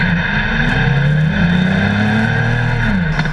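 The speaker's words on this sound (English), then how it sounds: "I heard the engine scream." Campagna V13R three-wheeled roadster with a Harley-Davidson engine revving loudly and close by, a sustained throaty roar whose pitch climbs and then eases back down, alone with no talk.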